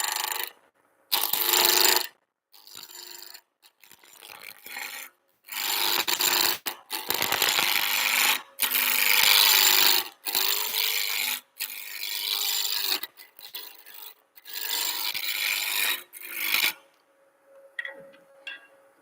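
A wood lathe turns a blank while a gouge cuts the corners off, giving a steady rasping, scraping roar in bursts with brief pauses between passes, close and loud, then falling quiet near the end.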